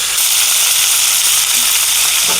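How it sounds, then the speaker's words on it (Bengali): Cauliflower, green beans and carrot fry in oil in a pan for a home-style vegetarian khichuri, giving a loud, steady, dense sizzle throughout with no talk. "দেখো, ফুলকপিটাও হালকা ভাজা হয়ে গেছে, বরবটিও ভাজা হয়ে গেছে, আর গাজরটাও ভাজা হয়ে যাবে।"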